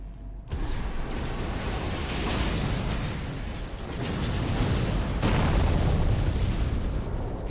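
A sudden blast in the video game Armored Core VI: Fires of Rubicon erupts into a long, rumbling roar of debris and fire, swelling again in later waves, loud and sustained without speech.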